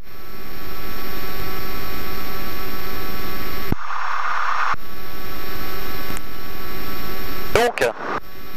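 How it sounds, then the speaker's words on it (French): A DR400 light aircraft's engine run-up drones loud and steady up close, with a brief dip in the noise partway through and a stutter near the end. "je vais faire les essais moteurs"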